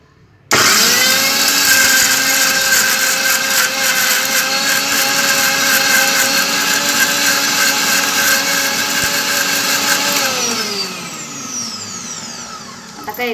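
A mixer grinder whirs loudly and steadily while grinding raw mango, its motor holding a constant pitch for about ten seconds before winding down as it is switched off.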